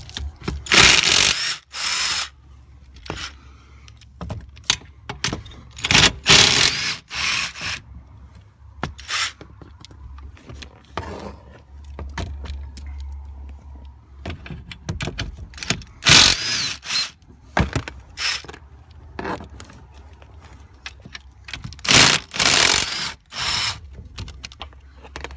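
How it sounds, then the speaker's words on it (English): Ratchet wrench working 12mm bolts loose beneath the steering column of a first-generation 2000-2006 Honda Insight, with bursts of clicking ratcheting separated by pauses and light handling noise, close and fairly loud with no talking. "So I'm going to take those 12mm bolts out and let the column drop down."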